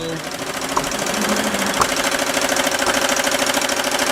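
An embroidery machine running its trace-out of a design, a steady rapid mechanical chatter and knocking with a constant motor hum, close and loud, with a voice talking over it.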